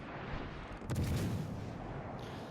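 Naval gunfire in World of Warships, a single heavy distant boom with a rumbling tail rising out of a steady ambient wash, no voices.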